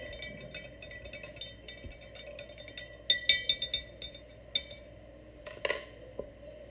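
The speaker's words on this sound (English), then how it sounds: "I'm just going to give this a little stir." Cinnamon soap or candle mixture stirred in a glass container, giving scattered light clinks and taps that bunch together in the middle and near the end over a quiet background.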